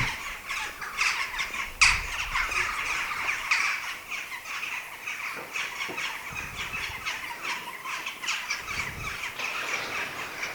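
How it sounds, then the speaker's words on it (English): Crows caw intermittently at a distance on Dartmoor near South Brent, Devon, harsh calls scattered over steady insect chirring and outdoor ambience. "Listen to the crows."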